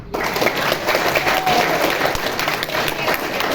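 Steady applause from a seated audience at an Indonesian marketing-plan presentation, loud dense clapping sustained throughout with no voices over it.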